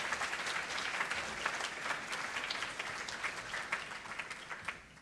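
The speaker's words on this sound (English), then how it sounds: "just a bit of a further round of applause for all of our finalists" An audience at an InsurTech Australia event applauds the finalists with sustained, even clapping that carries on for the full five seconds and fades slightly near the end.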